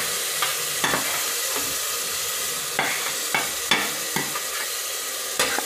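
Continuous sizzle of garlic and onions frying in a pan, with occasional sharp spatula scrapes, nearby and unbroken by speech.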